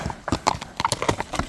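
A horse named as a well-trained mount clip-clops at a steady gait, its hooves close and distinct in an uneven rhythm, with a faint whinny-like note and no talk over it.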